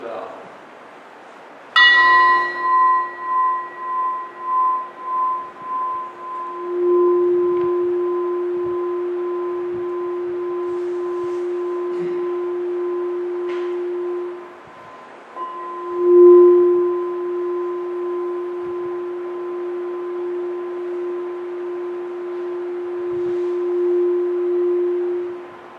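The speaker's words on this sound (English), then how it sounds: "as we breathe slowly and listen to the bell" A singing bowl is struck and rings with a bell-like tone, a pulsing shimmer that settles into a long, steady sustained hum, swelling again around sixteen seconds, with no talk over it.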